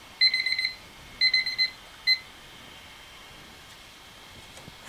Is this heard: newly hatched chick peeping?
no